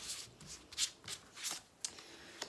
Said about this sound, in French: on va essayer de piocher des belles cartes